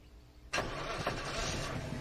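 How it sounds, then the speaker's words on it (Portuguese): A car engine cranks and catches in a survival video game, starting abruptly after a quiet lead-in and settling into a steady, loud idle rumble, with no talking. "Foda que o carro faz muito barulho, né, mano?"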